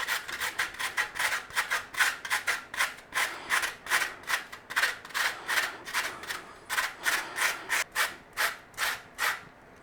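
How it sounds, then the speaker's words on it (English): A carrot is rubbed against a kitchen grater in steady rhythmic rasping strokes, roughly two per second, close and clear with no talking. "we want to be grating some carrot."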